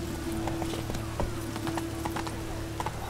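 Horse hooves clip-clop in The Witcher 3 video game, a quick rhythmic run of light hoofbeats over a low steady hum, fairly quiet and without talk.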